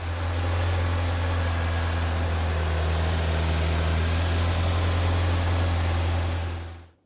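Ferrari 348 engine running at a steady idle after starting, a constant deep low hum with a smooth even drone that cuts off sharply at the end.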